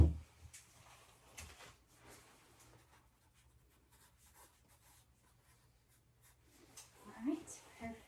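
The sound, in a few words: pen writing down vital signs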